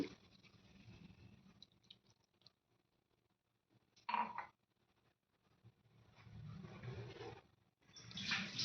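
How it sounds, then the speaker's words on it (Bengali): Water is poured into a wok of taro leaves (kochu shak) with salt and oil, giving a close splashing, gushing rush in several bursts of varying length separated by quiet gaps. "এখন দিমু আমি পরিমাণ মতো পানি।"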